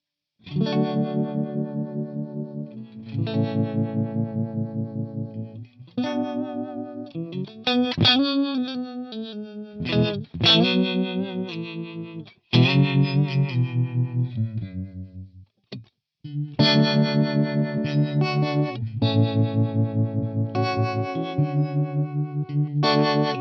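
Electric guitar phrases through a Line 6 HX One tremolo effect, a rhythmic, pulsing warble chopping the volume, played in bursts with short pauses between them.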